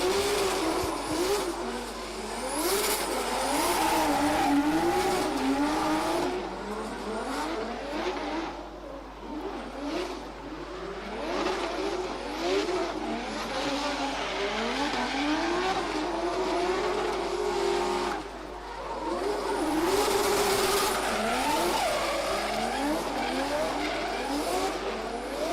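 Drift car doing a burnout at an international drift championship qualifying round in Oman, engine revving hard with continuous loud tire squeal and skidding, sustained and steady throughout, no voices.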